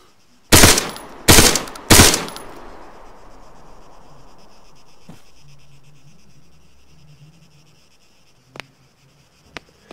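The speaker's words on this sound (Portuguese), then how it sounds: "Ele nem sabe de onde tá vindo o tiro" Arma 3 battle royale gunfire: three loud, sharp rifle shots roughly a second apart, each with a long fading echo across open terrain, followed by quiet ambience and a few faint distant clicks.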